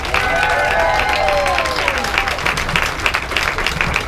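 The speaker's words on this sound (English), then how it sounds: "Let's give Jared a big round of applause." A crowd at a Walmart Supercenter grand opening in Oklahoma City gives the market manager loud, sustained applause, a dense continuous clapping with a few faint voices mixed in.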